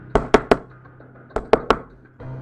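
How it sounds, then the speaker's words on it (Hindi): Six sharp knocks on a door in two groups of three, close and fairly loud, with a faint low hum between the groups and no talking. "शाम ढलते ही उसका दरवाज़ा फिर किसी ने खटखटाया।"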